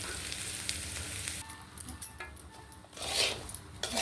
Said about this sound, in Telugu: పోపులోనే ఉప్మా రవ్వలా వేయిస్తాము